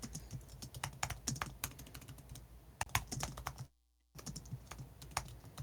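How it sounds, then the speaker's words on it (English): Computer keyboard typed in quick irregular bursts of sharp clicks, close and fairly quiet, with a brief silent gap partway through before the typing resumes. "I love keyboards. I love just hearing them on VC."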